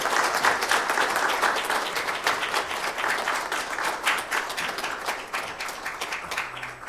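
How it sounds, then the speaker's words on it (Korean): Warm congregational applause at a church retirement service for an elder, steady and full throughout the seven seconds with no talk over it. "박수해 주시죠"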